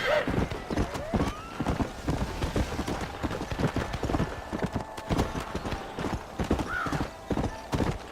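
Horse hooves clip-clop in steady rhythm in the Red Dead Redemption video game, a neigh rising briefly near the end, with a game voice heard faintly in places.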